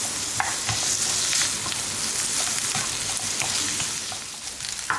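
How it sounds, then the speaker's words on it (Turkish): Minced meat fries in a pan while being stirred continuously, a steady sizzle broken by repeated scraping and stirring strokes, close and fairly loud, with no talking. "Tane tane olması için sürekli karıştırarak kavuruyoruz."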